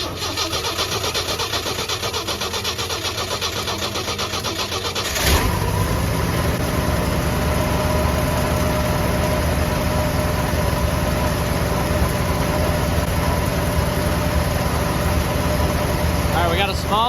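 A Ford F100 engine cranks with a fuel line newly refitted to the carburetor, catches about five seconds in and settles into a steady, loud, rough idle that runs to the end.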